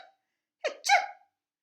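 A voice imitates two sneezes, a short breathy "ah" intake followed by a sharp burst, delivered close and clear against silence.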